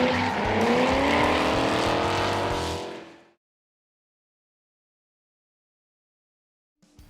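Cars drifting at the Power Nationals event at Nashville Superspeedway, a loud roaring engine and sustained squealing tires for about three seconds, then abrupt silence with a brief faint sound at the very end.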